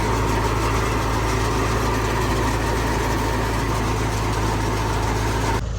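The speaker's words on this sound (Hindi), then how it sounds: "यहाँ से गंदम डाली जा रही है, आगे से भूसा जो है निकलता जा रहा है।" A tractor-driven wheat thresher runs at a steady, loud drone, with wheat fed in and chaff blown out, its constant mechanical roar unbroken until a sudden drop at the very end.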